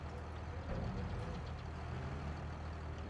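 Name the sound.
tractor being maneuvered to line up a wagon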